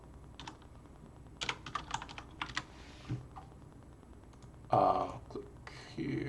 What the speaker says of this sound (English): And so I'm going to type in battle.net.